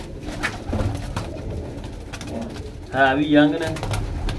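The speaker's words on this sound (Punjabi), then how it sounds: "ਬਾਕੀ ਆਹ ਕੱਟੇ ਹੋਏ ਕਬੂਤਰ ਨੇ।" Pigeons kept in a courtyard loft give a few soft coos near the end, following earlier talk from a man nearby.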